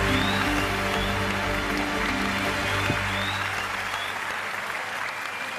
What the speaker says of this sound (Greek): Να του δώσουμε ένα δυνατό χειροκρότημα,